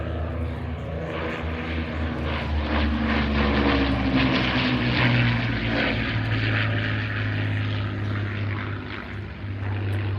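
A wooden de Havilland Mosquito warbird at an airshow in Wanaka, New Zealand: a loud, sustained propeller-engine drone with rough, layered harmonics that swells slightly midway and holds throughout, with no voices.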